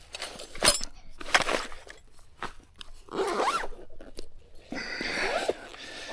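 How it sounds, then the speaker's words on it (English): A bag zipper is pulled closed outdoors after packing gear on a summit walk at Dingo Ridge, Victoria, Australia, with two fairly close rasping runs among scattered crunchy handling noises. "Zip that up."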